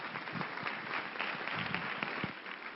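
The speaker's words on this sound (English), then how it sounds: "how about a round of applause for Mr." Audience applause at a school parent council event, a dense, even wash of many hands clapping throughout, fairly muffled and consistent in level.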